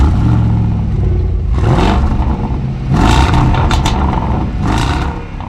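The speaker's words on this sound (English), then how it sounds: "This car has a big 5-liter V8 that produces 550 horsepower" The 5-liter, 550-horsepower V8 of a 2022 Jaguar F-PACE SVR revs repeatedly, its pitch rising and falling in several throaty bursts, loud and close.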